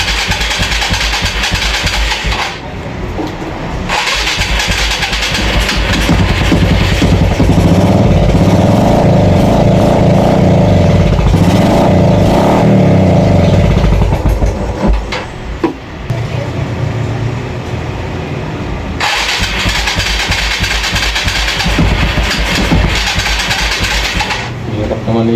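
A Yamaha FZ motorcycle that is hard to start and has possible water in its gasoline is cranked and its engine runs roughly, loud and close, with a steady drone that cuts off and restarts.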